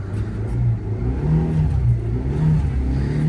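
A Nissan S Cargo fitted with a Daihatsu Move K-car engine accelerates, its small motor droning and rising in pitch through the gears, heard close from inside the cabin with no talk.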